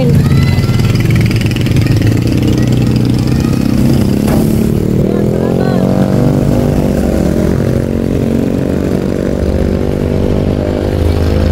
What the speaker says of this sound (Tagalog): Ganda, may tricycle.